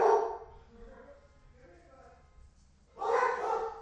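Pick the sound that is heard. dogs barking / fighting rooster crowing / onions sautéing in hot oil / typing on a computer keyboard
dogs barking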